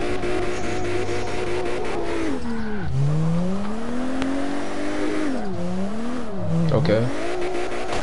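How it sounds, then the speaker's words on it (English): A drift car engine at a Formula Drift competition revs hard and loud, its pitch swooping down and back up in repeated dips as the car slides, with tires squealing and people talking nearby throughout. "I want to hear this engine the whole time"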